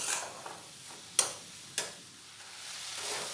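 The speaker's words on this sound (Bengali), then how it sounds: "দিয়ে ডালটা একটু 2 মিনিট ভালোভাবে ভেজে নেব।" Moong dal dry-frying in a pan, a faint steady sizzle broken by a few sharp scrapes of a spoon stirring, quiet and close with no talking.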